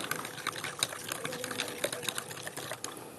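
A solution of plain water being stirred in a laboratory flask, a quick run of light clinking and tapping with faint liquid swishing, close and quiet, with no voices.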